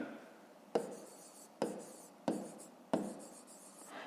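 A pen writes on paper while working through a fifth-grade maths exercise, soft close scratching with four sharp taps or strokes spaced about a second apart, quiet and alone with no voices.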